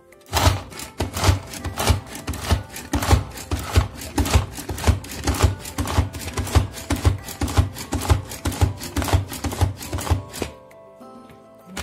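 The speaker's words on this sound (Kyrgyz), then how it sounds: "Азыр пиязды ушул многофункциональный измельчитель жардамы менен" A multi-function hand food chopper chopping onion, with loud rhythmic chopping strikes repeating for about ten seconds at a steady, slightly uneven pace. They stop abruptly, and only quiet rustling remains.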